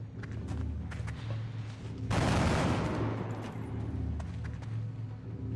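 Gunfire from a soldier in the video game XCOM: Enemy Within (Long War mod), a loud burst of shots around the middle over steady game background hum, fading to a rumbling tail.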